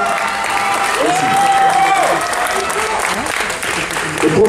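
Audience applause fills a bodybuilding contest hall, a steady dense clapping crowd that holds loud throughout, with a voice briefly audible over it.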